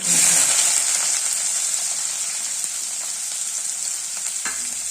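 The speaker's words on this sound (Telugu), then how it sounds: "ఇందులో కొంచెం ఆనియన్స్. నేను ఒక 5 ఆనియన్స్ తీసుకున్నానండి. 4 పచ్చిమిరపకాయలు 4 తీసుకున్నాను." Chopped onions and green chillies frying in a pan, a loud steady hiss of sizzling oil that eases slightly over a few seconds, with a faint scrape near the end.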